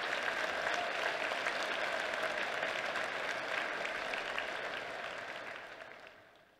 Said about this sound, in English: let's give a round of applause to all this, not just the veterans, but the veterans' families